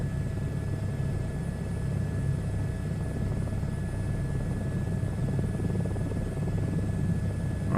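A helicopter in a VR flight simulator drones steadily with a constant rotor thrum and low engine rumble, heard close and unchanging for the whole stretch with no talking.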